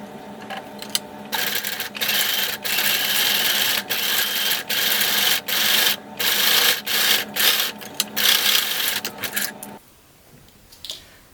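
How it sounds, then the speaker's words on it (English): A sewing machine zigzag-stitches around layered costume bolt pieces in rapid bursts of close, loud whirring and clatter, broken by short pauses, before it stops and the room goes quiet. "we're going to sew around the edge with a zigzag stitch to combine these layers"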